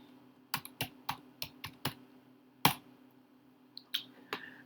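Typing on a computer keyboard: a short run of about seven crisp, evenly spaced keystrokes, then a firmer single key press and a few scattered taps, close and clear over a faint steady hum.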